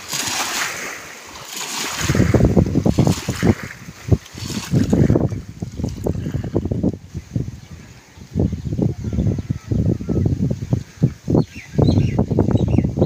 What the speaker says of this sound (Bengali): বোটটা চলে যাওয়ার পরে ঢেউটা দেখেন, এই যে ঢেউ আসছে